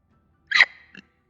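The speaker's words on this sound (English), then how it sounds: "That was a deep hiccup." A single deep hiccup bursts out abruptly, loud and close, followed a moment later by a smaller throaty catch, then silence.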